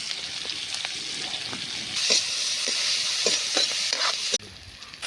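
Fish curry with brinjal frying in a wok at an outdoor riverside picnic, a steady close sizzle broken by regular scraping stirs, then dropping off sharply near the end.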